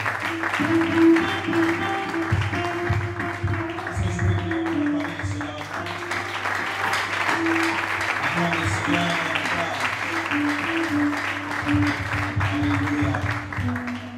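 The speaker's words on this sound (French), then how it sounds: "nous applaudissons le Seigneur" A church congregation claps through the offering time, a long steady wash of many hands with music or voices faintly underneath, sustained at an even moderate level for the whole stretch.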